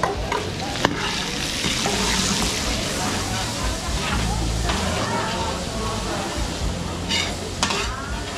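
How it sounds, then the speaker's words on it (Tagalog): Garlic and onion sizzle and spatter in hot oil, being stirred before crab goes in for a big seafood dish, a steady close hiss with occasional scraping clinks and voices talking in the background. "Hintayin lang natin mag golden brown yung ating bawang sibuyas bago natin lalagay yung ating alimango."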